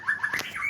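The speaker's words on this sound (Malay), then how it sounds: "Burung kau diam. Jangan bising." A pet bird chirps in quick, bright bursts close by, a few short calls and a rising whistle-like note packed into under a second, with no talking.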